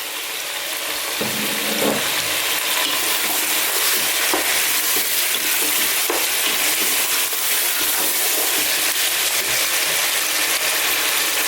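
Fresh curry leaves hitting hot oil in a pan for chicken curry, a loud dense crackling sizzle that surges and then holds steady, with occasional stirring taps underneath.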